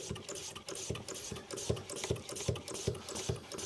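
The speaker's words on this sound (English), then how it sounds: "So I'm just going to pump this up now to pressurise it." A hand pump pressurises a brake fluid bleeder on a 2005 Skoda Fabia 1.2 petrol, giving a steady run of sharp, close strokes, roughly two or three each second, over a faint hiss.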